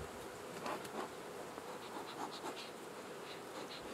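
A steady, dense hum of honeybees at an overwintered hive in Swanzey, New Hampshire, a continuous close drone with individual bees passing nearer at moments.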